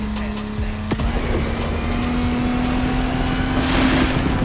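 A car engine roars at high revs in a street race in The Crew Motorfest, a donk against lowriders, with a steady droning tone that climbs slightly and stays loud and continuous throughout.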